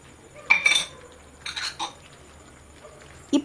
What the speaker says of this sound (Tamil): பன்னீர் சேர்த்ததும் நல்லா கிளறி விடுங்க